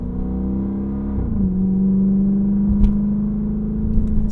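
A Dodge Charger Pursuit police car accelerates at half throttle, its engine a steady, close, loud drone that rises in pitch and holds, with a couple of faint clicks over it and no talk.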